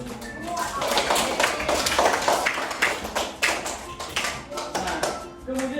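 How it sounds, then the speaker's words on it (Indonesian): Classroom clapping during a natural science lesson about water resources. A steady patter of many hands runs for several seconds at moderate loudness, with voices mixed in. "tepuk tangan buat semua"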